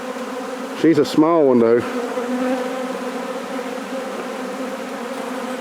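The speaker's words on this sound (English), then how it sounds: "There's so many bees in there." A swarm of honeybees at a hive entrance gives off a dense, steady drone throughout, close and continuous, while a louder bee buzzes briefly right by the microphone and a person speaks once over the hum.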